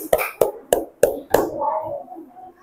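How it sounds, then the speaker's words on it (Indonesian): Hands clapping in a classroom: five sharp, evenly spaced claps in a rhythmic pattern, close and loud, followed by a fading murmur of children's voices. "Oke, tepuk tangan."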